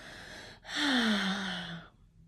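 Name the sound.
deep breath drawn in during relaxation exercise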